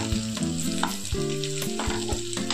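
Maggi noodles mixed with a little salt and fried in a pan make a steady close sizzle broken by repeated stirring scrapes, with a sustained tonal hum underneath.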